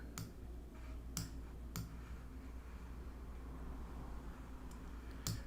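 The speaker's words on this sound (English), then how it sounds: "I'm just using my keyboard or my my mouse" Computer mouse and keyboard clicks from someone making digital art, a few sharp separate clicks spaced irregularly over a steady low background hum, close and fairly quiet.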